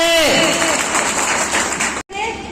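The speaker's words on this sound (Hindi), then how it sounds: "जोरदार तालियों के साथ इनका स्वागत करिए और जोर से।" An audience at a school foundation day event applauding to welcome a speaker: dense, loud, continuous clapping that starts under a brief voice and cuts off abruptly near the end.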